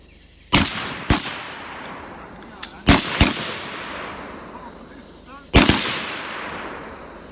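Gunfire on an outdoor firearms training range: five loud, sharp pistol shots spaced irregularly over several seconds, each ringing out with a long decaying echo across open ground.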